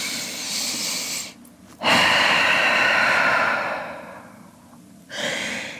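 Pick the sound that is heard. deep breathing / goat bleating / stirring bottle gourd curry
deep breathing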